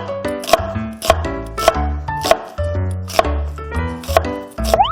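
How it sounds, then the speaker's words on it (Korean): A kitchen knife julienning an onion into 4–5 mm strips on a cutting board, heard as crisp, evenly spaced chopping knocks in a steady rhythm, close and loud with no talk over it. "양파는 양쪽 끝을 좀 정리를 해주시고 한 4-5mm 폭이 되도록 채로 썰어서 준비를 해주세요."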